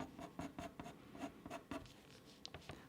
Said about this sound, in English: Going over with my lighter colors again.